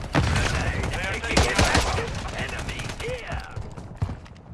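Heavy automatic gunfire in Call of Duty Modern Warfare 3, loud and sustained with overlapping bursts and mechanical clatter, while soldiers' voices shout over the shooting.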